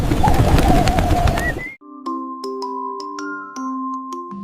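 A pigeon coos briefly over a noisy background, then a bright chiming melody of plucked notes takes over.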